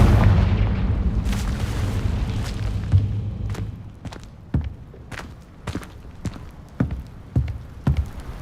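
A Confringo fire spell blast in the Hogwarts Legacy video game: a rumbling boom opens, then several sharp, separate impacts thud at irregular intervals.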